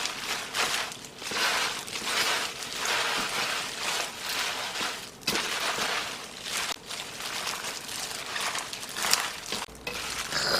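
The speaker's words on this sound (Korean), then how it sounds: "배추에 당근 넣고 다대기를 넣어서 버물러 주겠어요" Hands squelch and toss fresh cabbage kimchi with carrot and seasoning paste in a continuous wet, rustling churn, close and steady for the whole stretch.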